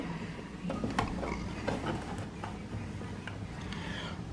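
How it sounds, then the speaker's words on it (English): Screws driven back into a light switch box plate by hand, a faint steady mechanical ratcheting with small clicks, quiet and close. "Put our screws back in."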